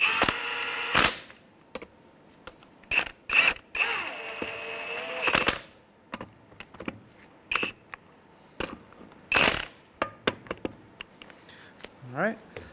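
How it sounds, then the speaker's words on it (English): A ratchet with a 19mm socket snugs up lug nuts on a 2003-2011 Honda Element wheel, sounding as short, sharp clicking bursts separated by quiet gaps, with a few brief louder clanks. "Come in here with our 19mm."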